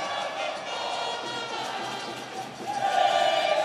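Tufão supporters at Arena da Amazônia during a Barezão 2024 match between Manaus F.C. and São Raimundo E.C., a steady distant crowd roar and chanting that swells near the end, under a commentator's voice.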